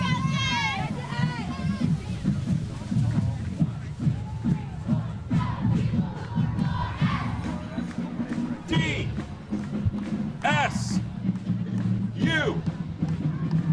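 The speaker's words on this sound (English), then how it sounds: "Hear that enthusiasm for the Pride from the crowd and the Pride itself." A parade crowd cheers and chatters around a university marching band at a college homecoming parade, with a dense, lively wash of voices, shouts and occasional whistles carrying on steadily throughout.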